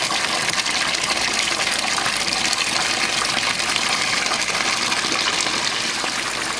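Water gushing hard and steadily from the pump outlet of a home aquaponic system, a loud continuous rushing splash with no pauses.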